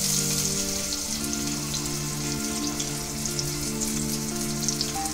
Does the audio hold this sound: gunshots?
no